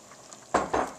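Bolognese sauce with vegetables in a pot, a soft bubbling simmer that gives way to two louder stirring and sizzling bursts near the end, close by and with no one talking.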